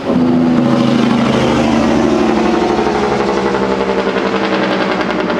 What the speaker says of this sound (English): That is a loud truck.